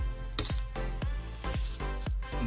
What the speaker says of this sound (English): Unless you just drop that coin.